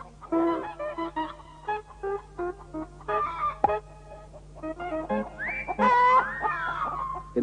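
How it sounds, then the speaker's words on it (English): Chickens in a garden cluck and squawk in a busy overlapping series of calls, fairly close, with louder drawn-out cries toward the end and no talking. "the garden provides the chicken with all its needs: shelter, other chickens, and its food"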